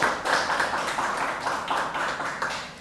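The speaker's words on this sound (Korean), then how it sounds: "하나님께 영광의 박수." A church congregation at a Wednesday worship service claps together in a sustained, loud burst of applause with a pulsing rhythm, close and filling the room.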